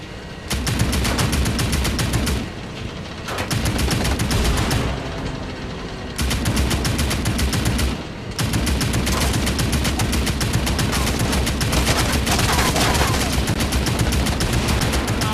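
Turret machine gun in the VR game Medal of Honor: Above and Beyond fires long, loud continuous bursts, broken by short pauses, with booming impacts in the mix.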